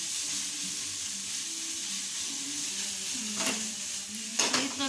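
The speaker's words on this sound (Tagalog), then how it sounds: "Sisig ay iniinit lang yan." Close, steady sizzle of pork sisig being reheated in a hot pan, with a constant hiss and a couple of brief louder crackles and spatters toward the end.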